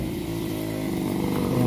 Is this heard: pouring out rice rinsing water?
no